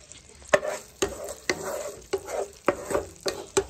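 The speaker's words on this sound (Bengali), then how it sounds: "ওই তেলের মধ্যেই আর একটু তেল দিয়ে দিয়েছি, দিয়ে কাঁচা লঙ্কা আর ফোড়নে দিয়ে দিলাম জিরে" Green chili and cumin seeds fry in hot oil, loud and close, with regular stirring strokes about every half second over a continuous sizzle.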